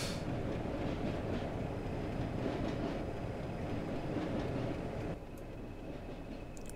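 A long passenger consist in Train Simulator 2018 rolls along the Bluebell Railway toward Horsted Keynes, hauled by a Class 50, 20 or 73 diesel. A steady, loud rumble of wheels on rails with faint rhythmic clatter runs throughout and eases slightly near the end.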